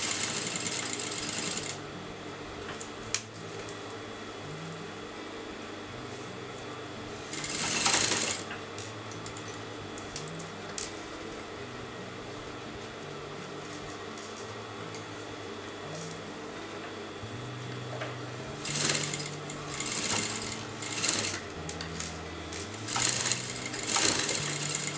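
A sewing machine stitches piping fabric onto a kameez neckline in several bursts of rapid mechanical whirring, separated by quieter pauses, close and clear.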